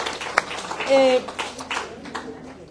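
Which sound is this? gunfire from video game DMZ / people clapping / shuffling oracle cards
people clapping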